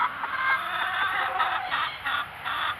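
A chicken named Cluck Norris vocalizes in a nesting box inside a coop, giving a steady run of close, moderately loud clucks and murmuring calls with a few rising accents, and no talking.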